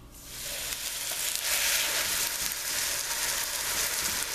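A pot roast searing in hot, previously used oil in a pan, giving a steady, close hissing sizzle that swells slightly after the meat goes in and holds constant.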